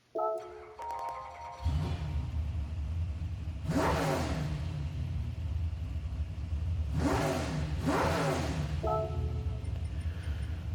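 A 1966 Ford GT40 Mark I in Gran Turismo 7 fires up with a short cranking burst, then settles into a loud steady engine rumble, punctuated by two rising revs near the middle and one more blip toward the end.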